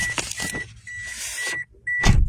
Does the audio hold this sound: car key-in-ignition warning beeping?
yes